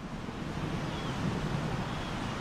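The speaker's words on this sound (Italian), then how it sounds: "Una tempesta affonda le navi di Filippo." Wind and waves of a storm at sea, a steady dense roar of rushing air and surf with no distinct breaks.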